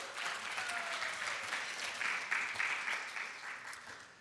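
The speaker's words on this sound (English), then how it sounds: "Let's get another round of applause for these two." An audience applauds two presenters at a farm food-loss solutions showcase: steady, moderately distant clapping from a crowd, sustained evenly throughout with no voices over it.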